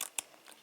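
Scissors snipping excess acrylic during nail art, two or three quick, faint, sharp clicks close by in a quiet room.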